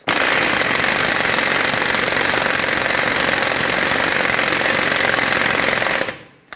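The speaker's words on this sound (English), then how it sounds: "I'm going to bottom this out with my air gun" A loud, sustained burst of an air impact gun hammering an axle nut down on the front hub of a 2007-2014 Chevrolet Silverado 2500 HD, running steadily for about six seconds before cutting off abruptly.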